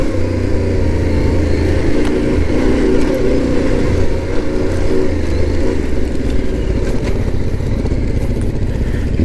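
A Yamaha Tenere 700 adventure motorcycle on Pirelli tires rides forest trails, its engine droning steadily and close with rough, rumbling texture and light clatter throughout.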